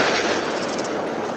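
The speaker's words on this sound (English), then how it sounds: "deadly plant explosion earlier today near the Hickman-Humphreys County line" A deadly plant explosion near the Hickman-Humphreys County line, picked up by a doorbell camera, comes through as a loud, dense roar of blast noise lasting just over a second.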